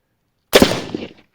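A single sharp gunshot cracks loudly against a Hardox 500 steel armor plate after a silent moment, its impact echoing and decaying over about half a second.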